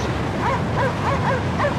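A dog in the video game Cryostasis, on an icebreaker: a quick run of short yips and whimpering barks, close and fairly loud over a steady background hum.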